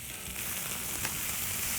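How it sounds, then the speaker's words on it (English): Beef taco meat sizzles on a hot flat top griddle, a dense, even hiss of frying held steady over a short stretch at moderate volume, with no talking. "nice little sizzle"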